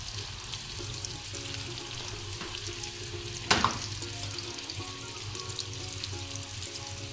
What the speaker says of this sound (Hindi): ये मैंने इसमें सारा चिकन जो है वो ऐड कर दिया है मैरिनेट हुआ हुआ।